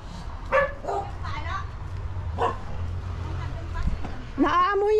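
A dog barks and yips a few times in an outdoor yard in the Philippines, with a sharper bark burst near the end, while people talk nearby over low background noise.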